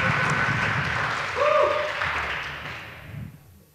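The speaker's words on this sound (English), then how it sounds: "please give a very warm round of applause to Viola" A conference crowd applauds a speaker being welcomed to the stage, with a broad wash of clapping that swells briefly and then fades away toward the end.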